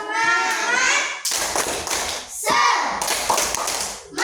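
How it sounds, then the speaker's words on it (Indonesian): A school class performs a rhythmic Indonesian clapping cheer, tepuk semangat, with children's voices chanting along in bursts and sharp patterned claps, close and lively. "Supaya semangat, kita tepuk semangat dulu. Tepuk semangat."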